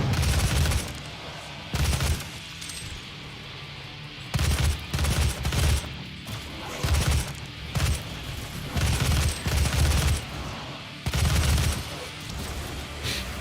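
Gunfire in DOOM 2016 comes in repeated loud bursts of rapid shots, each about a second long, separated by brief gaps, with deep booming weight and continuous game noise between.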